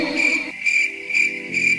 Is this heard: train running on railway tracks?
no